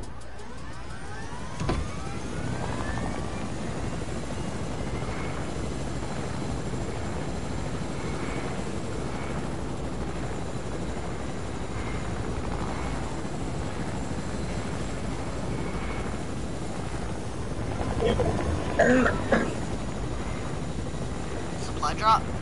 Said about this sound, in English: Get the helicopter, get in the heli.